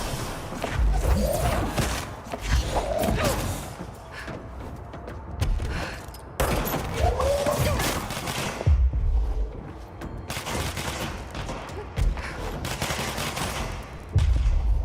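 Gunfire in the video game Control comes in repeated sharp bursts and volleys, with single shots and rapid fire broken by brief pauses, fairly loud against a dull rumbling background.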